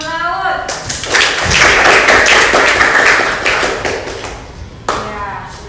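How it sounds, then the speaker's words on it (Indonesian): A classroom audience gives a presenting group studying marine ecosystems a burst of loud, steady hand clapping lasting a few seconds, with a voice speaking just before and after. "tepuk tangan untuk kelompok ekosistem laut"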